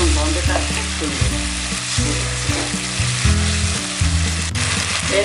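Spice masala mixed with sour yogurt fries in a pan for aloo dum, a strong continuous sizzle with stirring scrapes running throughout, close and loud.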